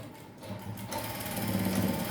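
Sewing machine stitching a princess-cut blouse, its steady rapid mechanical whir starting softly and then running continuously and close, with no talking.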